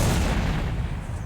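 A garden shed at the back of a yard blows up, a loud, close, heavy boom that rumbles and fades over about a second.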